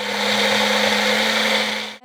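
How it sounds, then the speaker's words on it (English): A blender whirs at a steady high speed, purees seasoning for curry crab, then cuts off abruptly near the end, a loud close-up motor drone with no talking over it. "now we're going to put everything into the blender and blend it up"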